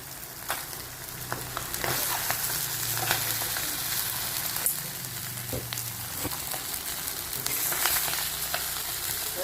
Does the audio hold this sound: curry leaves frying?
yes